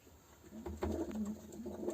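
Soft pigeon cooing, a few low murmuring calls repeating at close range with faint background noise.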